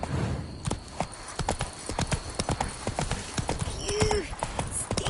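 Roach, the horse in The Witcher 3, gallops on video-game terrain, its hooves clip-clopping in a quick, steady rhythm, close and clear, with a short whinny near the end.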